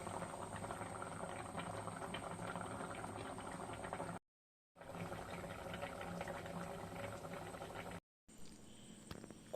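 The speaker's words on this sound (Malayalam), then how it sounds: "കറി തിളച്ച് കുറുകുന്ന സമയം കൊണ്ട് ഓടിപ്പോയി ഒന്ന് കുളിച്ച് കേട്ടോ" Fish curry bubbles and simmers in a pot as it thickens, a steady close crackle of boiling liquid that cuts out twice in brief gaps.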